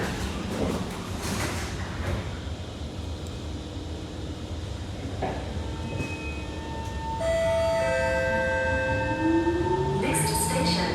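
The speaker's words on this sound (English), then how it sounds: "Doors are closing." SMRT train doors closing on the North South Line, a rising warning chime and door mechanism sounds over steady cabin rumble, with a recorded announcement voice.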